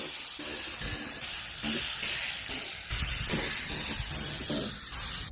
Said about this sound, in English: in order to get the bumper off, we have to remove all of these little bolts all the way around